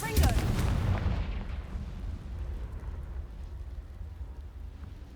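A Confringo blast spell explodes in Hogwarts Legacy, a loud booming burst at the start that decays into a long rumbling, crackling tail.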